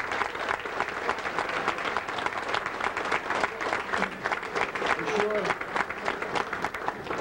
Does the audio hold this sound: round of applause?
yes